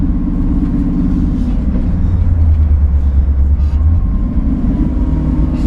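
A 1965 Ford Mustang GT350 with a side-exit exhaust rumbles nearby, a deep steady engine note that swells briefly in the middle before settling, with no voices over it.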